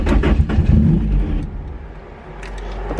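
A car with a tuned SR20DET engine runs roughly, its low rumble loud and uneven at first, then settling into a steadier, lower idle with faint mechanical ticks.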